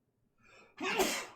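A single sharp sneeze, preceded by a brief inhaling gasp, loud and close in an otherwise quiet moment.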